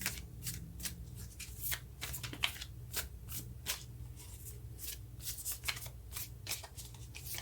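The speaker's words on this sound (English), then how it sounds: "these aren't wanting to shuffle in a smooth way" A deck of Spirit Animal Oracle cards is shuffled by hand in quiet, uneven bursts of riffling and sliding card noise, close up, with no talking.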